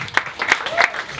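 Brief burst of audience applause for a comedian at a stand-up show at UCB East in New York, with sharp individual claps close by and a voice over the top.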